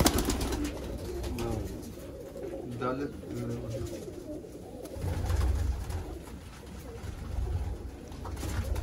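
Pigeons in Sialkot coo in low, throaty murmurs, mixed into a busy backdrop of rustling and other noise, with voices talking nearby.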